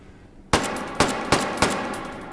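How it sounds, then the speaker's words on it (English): Russian rifle firing single shots in a shooting game, four loud, sharp cracks spaced roughly half a second apart, each with a short ringing tail. "So here's single fire."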